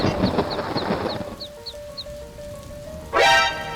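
A frightened cartoon chick clucks in a quick run of about seven light, evenly spaced peeps over rain, followed after a pause by a louder, sweeping call.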